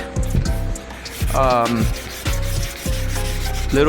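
Hand sanding with 120-grit sandpaper, worked lightly in a cross-hatch pattern over a surface earlier cleaned of rust with 80 grit: steady, close rasping strokes come in several repeated bursts with short pauses between them.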